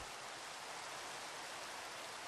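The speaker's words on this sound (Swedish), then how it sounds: "Hemma i regnet! Ja, hör du fina nya ljudet?" Rain falls in the Minecraft video game as a soft, steady, even hiss that lasts a couple of seconds, with no voices.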